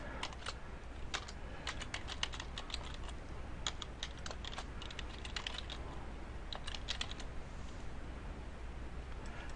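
Email address being typed on a computer keyboard, quick irregular bursts of light key clicks at close range, with brief pauses between runs of keystrokes.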